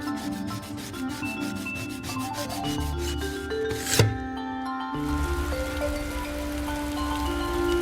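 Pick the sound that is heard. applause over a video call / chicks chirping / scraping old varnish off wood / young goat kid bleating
scraping old varnish off wood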